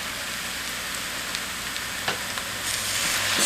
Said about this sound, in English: Stir this constantly to make sure everything gets combined and to make sure that nothing scorches to the bottom of your pot